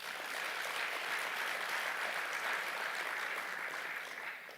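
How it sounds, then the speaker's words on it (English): Conference audience applause at an Eastern Cape investment event, a broad even wash of many clapping hands heard from a distance, steady before fading slightly at the end. "I think we can clap for that."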